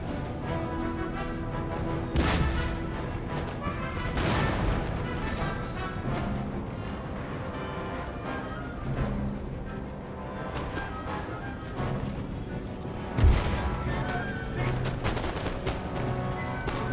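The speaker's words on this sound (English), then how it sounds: "Get out of the way of the cannon." Scattered booming shots and crashing impacts over a busy battle din, cannon artillery fire in the video game Empire Total War, with one sharp heavy blast standing out late and no talk.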